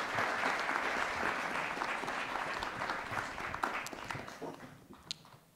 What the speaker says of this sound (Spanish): les pido un aplauso para Albert Serra y Lázaro Gabino Rodríguez